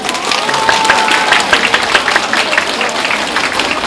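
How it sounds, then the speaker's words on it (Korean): Audience applause at a 2019 Korean postal civil service exam successful-candidates event: dense, steady clapping from a large crowd throughout, fairly loud with no talk over it. "제가 말씀 안 드려도 자동으로 박수를 치시네요."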